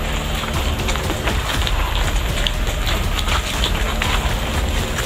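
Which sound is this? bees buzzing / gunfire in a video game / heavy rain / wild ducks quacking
heavy rain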